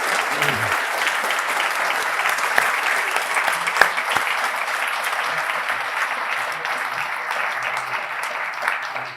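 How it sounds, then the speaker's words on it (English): Sustained applause from an audience at the close of a talk on the Russian war in Ukraine and global nuclear order, steady dense clapping that stays loud and even throughout with no pauses. "she deserves a big round of applause"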